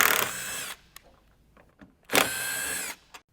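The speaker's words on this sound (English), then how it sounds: "Using a Torx bit, remove the 2 factory bolts located at the base of the windshield" A power driver with a Torx bit backs out the factory bolts at the base of a Jeep Wrangler JK or TJ windshield, running in two loud whirring bursts with short pauses and faint clicks between, no talking.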